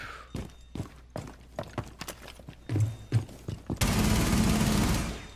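Bearing 9 machine pistol fire in Rainbow Six Siege: a string of separate, sharp shots with short gaps gives way to a dense, continuous automatic burst that rattles loudly until the end.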